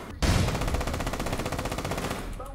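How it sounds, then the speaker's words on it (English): A gun in APB Reloaded fires a rapid burst of bullets, loud and close, with evenly spaced shots rattling for about two seconds after a sharp first report. "just spam bullets in their general direction until they die."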